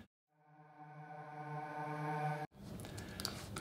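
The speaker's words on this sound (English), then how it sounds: "So you have this sweep effect again," Reversed reverb sweep made from a synth in a remix of a song, swelling steadily from near silence into a rising, dense tonal wash, then cutting sharply into a noisy tail, fairly quiet and with no voices.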